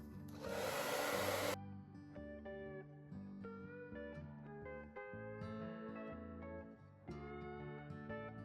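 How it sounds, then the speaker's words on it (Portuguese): A hair dryer blows hot air over EVA foam flower petals, a steady whooshing burst lasting about a second before music takes over. "eu vou aquecer elas de cima para baixo no secador, girando assim"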